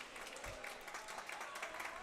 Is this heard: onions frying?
no